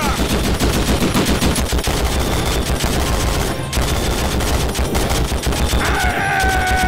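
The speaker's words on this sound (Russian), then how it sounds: "Пулемет Егорка!" Sustained machine-gun fire in the Vietnam War shooter game Conflict: Vietnam, rapid loud bursts rattling almost without pause, with a brief gap midway and a whining tone near the end.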